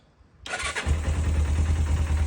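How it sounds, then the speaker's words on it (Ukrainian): A 1999 Suzuki GS500E motorcycle engine cranks and catches after a short quiet lead-in, then settles into a steady, loud, close idle with a throbbing low rumble and no talk over it. "двигун працює ідеально, запускається"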